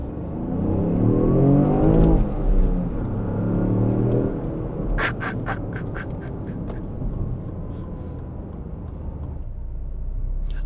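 A Lexus LBX Morizo RR accelerates hard up a merge ramp onto an expressway, its engine rising in a loud, steady growl from inside the cabin, with a few sharp mechanical chirps partway through.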